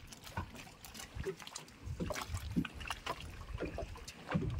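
A small bangka out on the water of Angat Dam, with close irregular splashes, knocks and water sloshing against the hull under a low engine or wind rumble.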